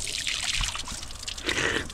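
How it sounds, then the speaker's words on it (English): Fresh mountain spring water trickles and splashes in Lebanon, a close, bubbling flow with fluctuating gurgles for a couple of seconds. "Fresh mountain spring water."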